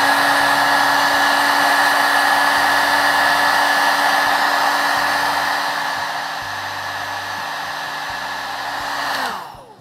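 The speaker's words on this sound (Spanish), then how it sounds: "Nos ayudamos de nuestro secador para que la pieza seque más rápido." A hair dryer blows steadily on a freshly painted flower pot with a constant, loud whooshing hum and whine, easing slightly in level before switching off at the end.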